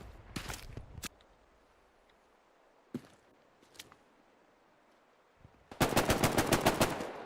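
M1 Garand fire in the World War II shooter Hell Let Loose at Hill 400, a few sharp single shots, then a fast closely spaced burst of loud gunfire near the end.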